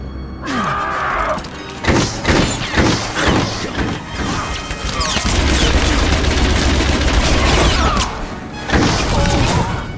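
Blaster fire from Imperial soldiers in the Star Wars: The Old Republic video game, with repeated loud shots and crashing impacts in a chaotic battle.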